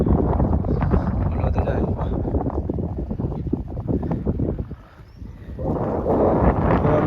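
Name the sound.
cool wind blowing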